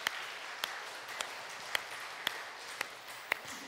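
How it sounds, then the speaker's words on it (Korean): A church congregation at a Sunday service applauding, a soft steady wash of distant clapping with a few sharper claps standing out at intervals, quiet throughout. "우리 박수로 격려하며 하나님께 영광 올려드리겠습니다."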